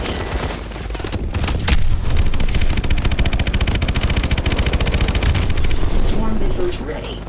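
Sustained loud automatic gunfire with booming missile launches in a Call of Duty: Advanced Warfare battle, a dense continuous rattle throughout with shouted radio voices underneath.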